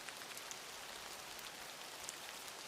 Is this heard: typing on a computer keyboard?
no